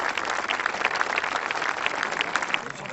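Applause rises from a crowd at a street protest march against a coal-fired power plant, placards waving; steady, fairly close clapping carries through the whole three seconds with faint voices mixed in.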